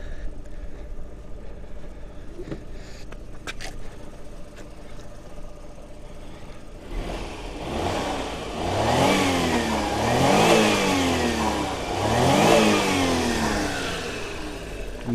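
A 1992 Mazda Autozam AZ-1 idles quietly at first, then is revved several times in quick succession, each rev rising and falling sharply, loud and close with no talk.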